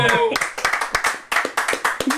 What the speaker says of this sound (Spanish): Kenneth Rodríguez, un aplauso